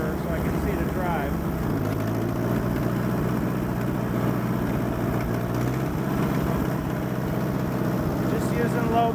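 An Allis Chalmers D14 tractor clearing snow from a drive in low gear, its engine a steady, close, loud drone that holds unbroken throughout.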